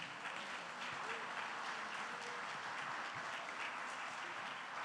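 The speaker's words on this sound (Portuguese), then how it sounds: "Você pode aplaudir o Senhor aí, querido?" A church congregation applauds in a steady, even wash of clapping, fairly faint and distant, continuing throughout with no voices standing out.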